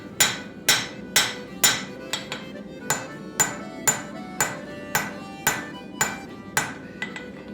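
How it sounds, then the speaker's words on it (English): A hammer forges SS2090 spring steel into a wedge for an axe, striking roughly a dozen sharp, ringing blows in a steady rhythm, each loud impact decaying quickly before the next. "I basically forge it into a wedge and then I clean it up using files."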